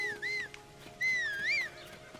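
A horse whinnies in Zelda: Tears of the Kingdom, two clear rising-and-falling calls with a brief gap between, fairly close and alone over quiet game background.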